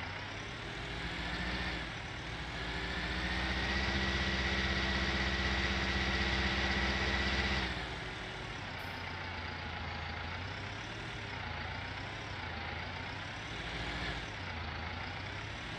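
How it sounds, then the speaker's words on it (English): Small tractor engine running steadily in a farming video game set in France, a continuous mid-pitched idle and drone that swells briefly then settles, heard alone with no talk. "even though this is a small tractor, this is really about the largest tractor you're going to use in this game"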